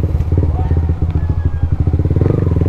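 A motorcycle engine idles close by with a steady, throbbing putter that runs throughout, with a faint voice briefly under it.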